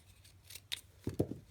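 Scissors snip through paper during a maths lesson, giving a few quick, close, crisp cuts in a short burst over a quiet background.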